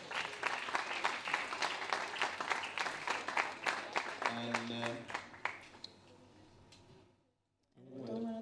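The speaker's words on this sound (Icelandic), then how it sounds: "Gefum við gott klapp." An audience at a school singing competition applauds loudly with fast dense clapping, then the clapping thins and fades to near silence before a short burst of sound at the end.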